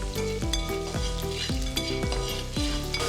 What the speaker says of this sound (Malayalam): നമ്മുടെ ഇഞ്ചിയും വെളുത്തുള്ളി മൂത്ത് ബ്രൗൺ കളറായി വന്നിട്ടുണ്ട്.